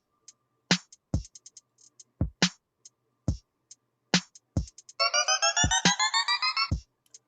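A sliced BandLab beat loop plays back quietly: sparse, crisp percussive hits and clicks, then a buzzy, rapidly repeating synth chord pattern that steps upward for about two seconds.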